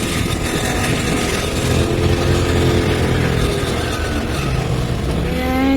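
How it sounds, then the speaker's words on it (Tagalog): Continuous motorcycle engine drone while riding on a road in Taiwan, steady and close throughout, with a low rumble and occasional gear shifts and some rising pitch toward the end. "Siguro nagtataka kayo bakit nakamotor kami."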